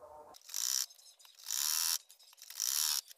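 A sewing machine stitches kameez fabric in three quick bursts of rapid mechanical whirring, each separated by a brief pause, close and clear with no talking.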